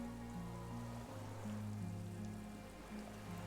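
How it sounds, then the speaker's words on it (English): Soft, steady rain falling on reeds and bulrushes at the waterline of a windless islet in the video game Disco Elysium, a continuous gentle hiss over a low sustained musical drone with no talk. "On the islet, there is almost no wind under the rain quietly falling on the reeds."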